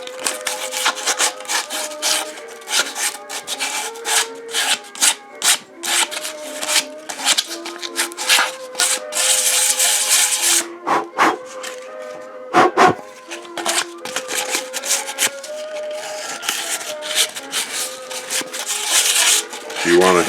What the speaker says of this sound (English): use the sandpaper to clean the surfaces.